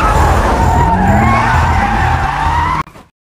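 A car skids off the road in the 2019 action film No Mercy. Loud, close tire squeal and skidding roar with engine noise run for nearly three seconds, then end abruptly, leaving only a faint tail before silence.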